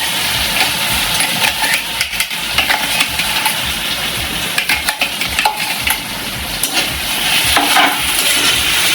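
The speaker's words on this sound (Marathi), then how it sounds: "फ्राय होऊ द्यायचे बटाटे आणि मिरची." Potatoes and green chili frying and being stirred in a pan for sabudana khichdi, a loud steady sizzle with scraping stir noises throughout, close, with no talking.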